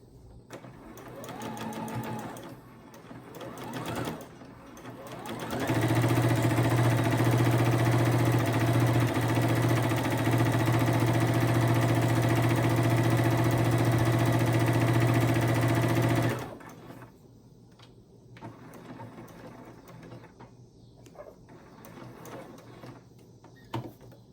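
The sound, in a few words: sewing machine stitching elastic onto cloth jar bonnet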